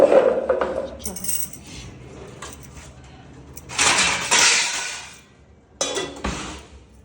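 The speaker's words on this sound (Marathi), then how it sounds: "आता मी ठेवते आणि घेते भांडी" Metal utensils and pots in a home kitchen are set down and picked up, with scattered clinks and two louder clattering bursts among quieter handling.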